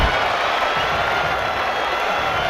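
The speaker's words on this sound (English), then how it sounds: "The crowd is on their feet here. This is an incredible fight, Kenny." Boxing arena crowd roaring steadily through the final seconds of round ten of a championship bout, a dense, loud wash of cheering with no breaks.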